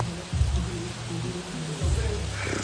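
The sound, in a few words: rain falling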